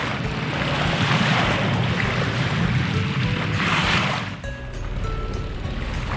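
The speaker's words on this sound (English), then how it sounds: "Out past the breakwall now. Swells are about 6-7 seconds apart." Ocean swells and waves outside the breakwall at Hilo, heard from a small West Wight Potter trailerable sailboat, a steady wash of water and wind buffeting the microphone, with the hull sloshing through 3-foot swells.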